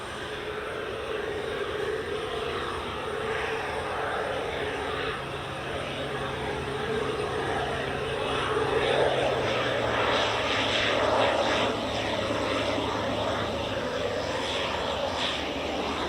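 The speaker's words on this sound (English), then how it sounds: "247 Aviation Pilatus PC-12 from the Isle of Man." A 247 Aviation Pilatus PC-12 single turboprop from the Isle of Man, a steady moderate engine drone with a tonal hum that swells a little midway.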